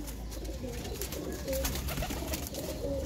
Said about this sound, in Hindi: एक ये हीरा लाल कबूतर हैं और इसके अलावा जो कबूतर हैं फनियर कबूतर हैं